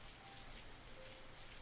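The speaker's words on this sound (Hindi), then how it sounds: "बाहर बारिश तेज हो रही है" Rain falls steadily outside, a faint, even hiss of drops on surfaces with no pauses or other sounds.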